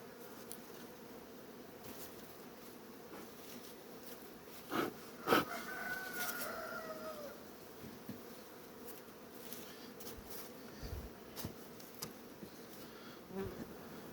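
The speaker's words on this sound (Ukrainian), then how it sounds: "бджілка трохи літає, але працювати дають" Honeybees flying around wooden beehives in mild late-season weather: faint, continuous buzzing hum with an occasional closer bee passing, outdoors and quiet overall.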